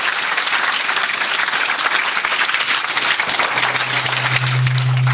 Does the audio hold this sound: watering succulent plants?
no